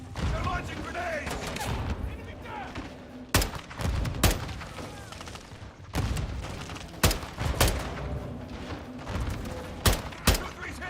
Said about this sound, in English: Take cover! They're launching grenades!